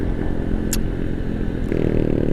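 A Kawasaki W175 motorcycle engine hums steadily while being ridden, loud and continuous with a low rumbling drone that rises slightly in pitch near the end, plus a brief high clatter or scrape partway through.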